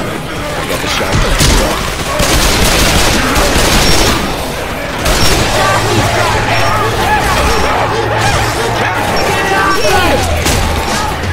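Shotgun fire echoes in the video game Left 4 Dead 2, a dense barrage of booming shots and crashes over a constant loud backdrop, with in-game voices shouting among the blasts.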